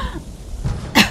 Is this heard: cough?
yes